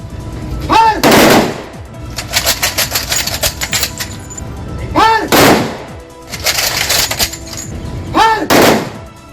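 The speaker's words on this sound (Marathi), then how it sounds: "हवेत गोळ्या झाडून त्यांना सलामी देण्यात आली" At a state funeral at a cremation ground, a ceremonial gun salute is fired into the air in three loud, sharp volleys spaced a few seconds apart, with rapid metallic clattering between them.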